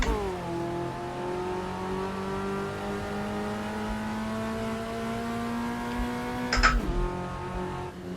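Race car engine in the Automobilista 2 sim racing game at Brands Hatch, droning steadily at near-constant revs with a brief sharp burst and pitch drop near the end, loud and alone without talk.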